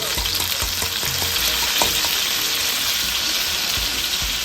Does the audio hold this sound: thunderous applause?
no